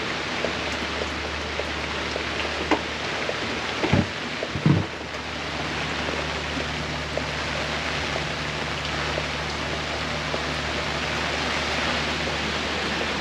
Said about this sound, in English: We'll see if the rain passes, but nice to get the boat washed off.